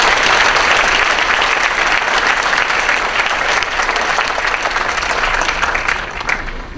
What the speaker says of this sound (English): Let's applaud both of these young men.